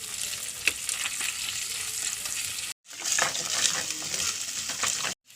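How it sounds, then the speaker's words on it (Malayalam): Garlic, ginger, green chili and shallots sauté in hot oil, sizzling steadily up close while a utensil stirs and scrapes, with a brief break midway. "അതിലേക്ക് ആവശ്യത്തിനുള്ള വെളുത്തുള്ളി, ഇഞ്ചി, പച്ചമുളക്, ചെറിയ ഉള്ളി ഒക്കെ ഇട്ടൊന്ന് വഴറ്റട്ടെ."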